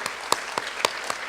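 A few distinct claps from an audience at a youth volunteer programme celebration, about five sharp separate hand claps spaced across just over a second, moderately loud.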